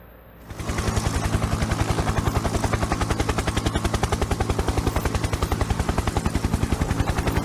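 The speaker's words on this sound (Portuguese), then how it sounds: "o que que o helicóptero da polícia tá fazendo aqui?" A police helicopter flies overhead in a game. Its loud rotor thump kicks in after a moment and pulses in a rapid, steady beat.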